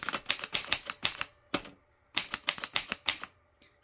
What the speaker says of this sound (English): So that is our typewriter.